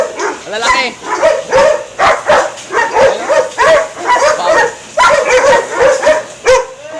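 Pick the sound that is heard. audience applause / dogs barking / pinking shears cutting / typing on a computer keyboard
dogs barking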